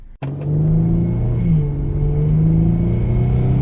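An Infiniti G37 revs hard in sport mode after a sharp start, its engine a loud, steady roar that swells and climbs in pitch partway through, with high-flow catalytic converters fitted.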